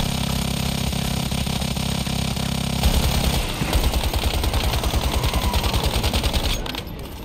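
Video game gunfire: a steady buzzing stream of rapid shots, then a louder burst of repeated automatic fire that continues in fast rhythmic volleys before tapering slightly at the end.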